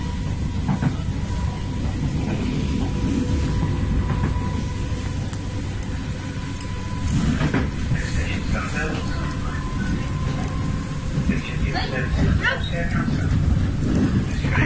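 Steady rumble and rattle inside a moving passenger train with the window open, a constant loud wash of wheel and track noise throughout, with people talking and occasional clatter on top.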